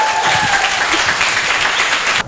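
An audience applauds a guest speaker, a Global shoe brand founder, with loud, continuous clapping from a crowd that holds steady before cutting off abruptly at the end.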